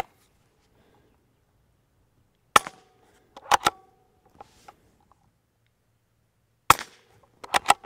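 A .22 rifle fires through a full titanium modular silencer into a dirt berm, giving sharp isolated cracks in two clusters separated by near silence, each with quick following impacts.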